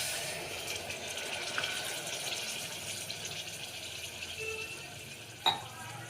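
About one and a half cups of water pour into a pot of cluster bean dhokli curry over cooked spice paste, a steady soft gushing splash that runs evenly, ending in a brief clink.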